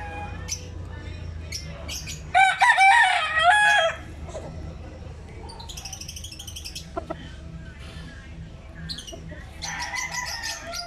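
Backyard chickens and roosters cluck and squawk nearby while one rooster lets out a loud crow, with scattered calls from the rest of the flock around it.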